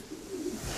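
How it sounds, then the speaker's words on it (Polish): Pigeons cooing softly inside a loft that opens onto an aviary, a brief, faint low murmur of coos with no voices. "Tu widzimy gołąbki siedzące sobie, mające swobodny wylot na wolierę."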